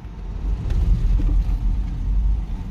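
A REVA G-Wiz electric car with a lithium-ion conversion, its motor giving off a loud, steady low rumble and whir that swells slightly and holds for nearly three seconds.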